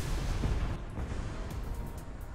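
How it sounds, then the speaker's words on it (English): A T-34 tank cannon in War Thunder fires one heavy, booming shot that rolls off into a rumbling decay, at middle distance and with no talk over it. "Got a T-34 shooting at us from somewhere."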